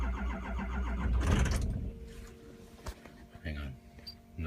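Car engine cold start attempt on a turbocharged vehicle: a loud cranking and catching burst peaks early, then settles into a rough idle under intermittent voices talking nearby.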